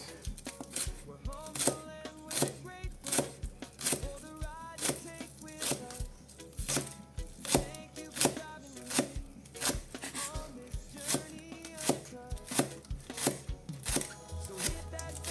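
A knife chops scallions on a cutting board in quick, regular taps that run throughout, fairly close, over faint background music.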